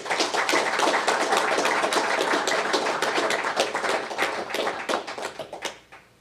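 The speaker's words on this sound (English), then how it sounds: "please give him a round of applause" An audience at a First Nations Power Authority gathering applauding, dense steady clapping from many hands that holds strong for several seconds, then tapers off and fades out.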